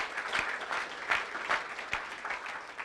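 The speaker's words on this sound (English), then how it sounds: "Let's give them all a round of applause for the work they do for BizFed every single day" An audience at a business panel event gives a short round of applause, a dense patter of many hands with a few distinct sharp claps, moderately loud and steady throughout.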